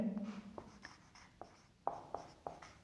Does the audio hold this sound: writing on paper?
yes